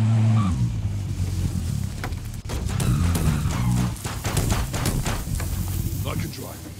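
Car driving in Call of Duty Warzone, a steady engine drone with rattling road noise and scattered sharp clicks and thuds, under occasional voices.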